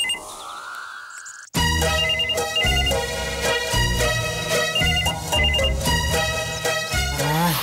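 A telephone rings loudly and steadily with a repeating electronic melody, sounding alone after a brief quieter lead-in.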